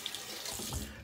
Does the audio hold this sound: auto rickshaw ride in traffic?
no